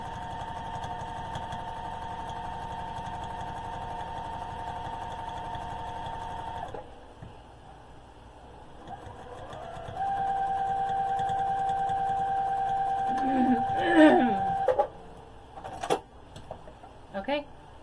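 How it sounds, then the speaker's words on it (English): Sewing machine stitching the lining of a trick-or-treat bag, a steady mechanical hum running for several seconds, pausing, then resuming with a second stretch of stitching followed by a few clicks and handling knocks. "Lining is sewn. I sewed close to the edge."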